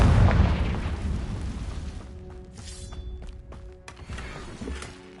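A Confringo fire spell explosion in Hogwarts Legacy, a loud, booming burst at the start that fades into a rumbling decay, with faint clinks and short tones trailing after it and no speech.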